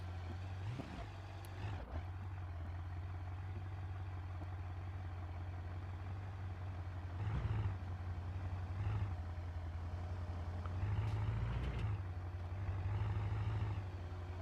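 Big truck engine for a ramp truck in BeamNG.drive, a low, steady idle rumble heard close, with a few short surges of revving and clunks and no talk over it.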